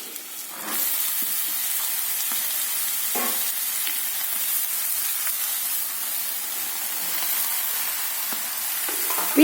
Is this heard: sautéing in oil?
yes